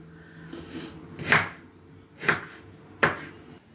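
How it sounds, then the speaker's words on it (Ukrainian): A knife cuts an onion into thin slices on a board. Three distinct, crisp chops land about a second apart over a quiet background. "Цибульку на чотири частини. І такими тоненькими слайсами поріжемо."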